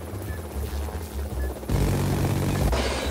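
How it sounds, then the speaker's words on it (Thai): A helicopter flying in a Roblox Bendy and the Ink Machine game, a steady low rotor drone with a rhythmic chop that jumps louder and brighter partway through, close and continuous. "โอ้โหเฮลิคอปเตอร"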